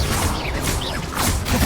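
Confringo spell cast in Hogwarts Legacy, a fiery blasting spell: a rushing whoosh with crackling bursts and impact-like thuds, loud and dense, with game sounds layered under it.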